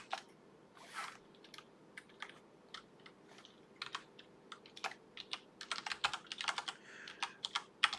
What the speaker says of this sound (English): I keep typing this algorithm so much that I should probably make a macro out of it